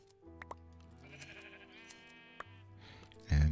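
A sheep in Minecraft bleats as it is sheared in a pen, a few short, clear in-game bleats alongside snipping clicks, ending with a louder burst.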